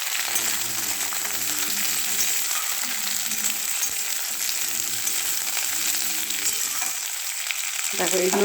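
Broad beans and eggplant frying in a pan, a dense, continuous sizzle close up, with occasional stirring scrapes and clicks and no talking.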